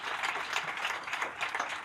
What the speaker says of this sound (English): Can we have a round of applause for all the speakers